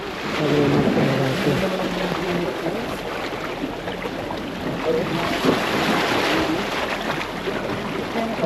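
Sea waves wash and churn around a moving boat on an island-hopping tour off Boracay, with a constant rushing roar and wind buffeting the microphone.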